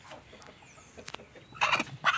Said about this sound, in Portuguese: Ó, tem uma galinha aqui dentro.